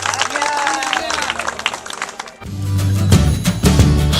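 Villagers clap together after solar-powered water-tank water arrives in their village. The dense, loud clapping is followed by lower crowd noise and talk.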